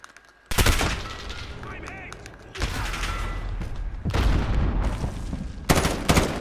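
An M41 rifle fires in a Call of Duty: Modern Warfare 2v2 match, sharp loud reports in clustered bursts with brief pauses, set against echoing battlefield noise.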